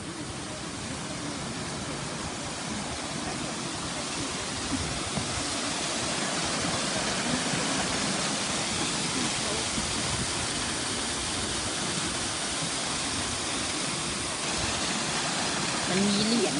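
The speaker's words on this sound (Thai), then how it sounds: "น้ำตก น้ำตก" A waterfall pours in a steady, dense, full-band roar that holds constant and close throughout, with no breaks or talking audible over it.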